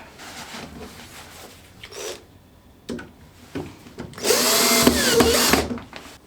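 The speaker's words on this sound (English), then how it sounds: "let's screw the hinge on this on the door side" Cordless power drill driving screws to fix a steel hinge onto the door side of a wooden door, several short whirring bursts followed by a longer, louder sustained run as a screw is driven home, heard close up.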